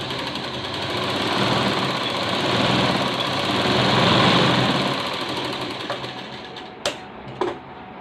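A sewing machine stitches a yoke strip onto a blouse, running in a loud, steady whirring hum that swells and eases, then stops, followed by a couple of sharp clicks.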